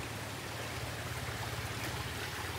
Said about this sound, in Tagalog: Galing yan sa bukal. Galing doon sa taas doon.